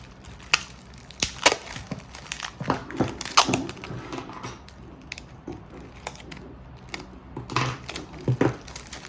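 Tape being wound tightly around a plastic bag covering a rattan stand lamp's fitting, with crackly crinkling and sharp tearing pulls in an irregular rhythm, close and fairly quiet, with no voices.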